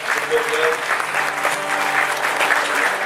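Audience applause after a performer's set at a country music show, a steady, dense wash of clapping throughout the short stretch with some crowd noise mixed in.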